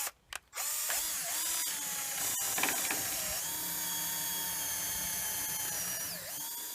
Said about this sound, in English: So I'm going to auger a little hole in here and just kind of go with the flow here.